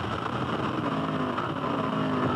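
Steady, loud wind buffeting inside a V8 Supercar at nearly 300 km/h during the Bathurst 1000 race, with a damaged windscreen struck by a loose wheel; a continuous broadband roar with engine drone beneath, no speech.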